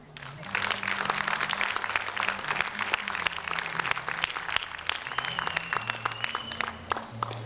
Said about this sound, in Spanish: les voy a solicitar que nuevamente a las tres les demos un fuerte aplauso.